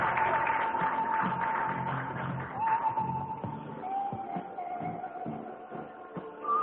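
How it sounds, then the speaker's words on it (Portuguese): A church congregation claps and shuffles in praise, a broad steady wash of applause with a tonal voice or instrument line running through it. "Palmas para o grande Rei Jesus Cristo"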